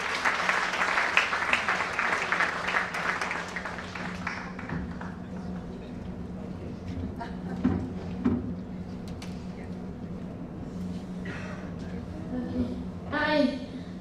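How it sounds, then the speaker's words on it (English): Loud audience applause fills the first few seconds, then fades into scattered clapping and murmuring voices. "Can we have a huge round of applause for Nupur?"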